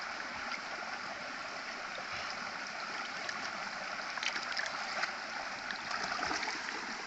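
Faint river water flows in a steady, gentle rush with light gurgles, heard from close by with no voices.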